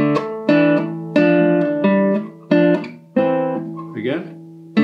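Acoustic guitar playing the Manx tune Arrane ny Niee, a short phrase of plucked notes and strummed chords in a steady rhythm, each attack ringing and decaying, close and clear with no talking.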